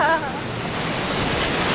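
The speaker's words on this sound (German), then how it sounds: "Hast du Angst vor den Wellen?" Atlantic surf at Biarritz rushes in a broad, roaring wash with wind buffeting the microphone, and a brief voice sounds at the very start.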